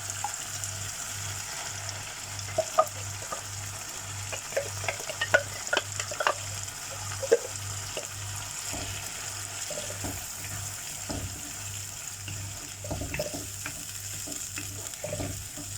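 Ground masala being stirred and fried in ginger garlic paste for a king fish curry gives a steady low sizzle with scattered clinks and scrapes of a spoon in the pan, close by and with no talking.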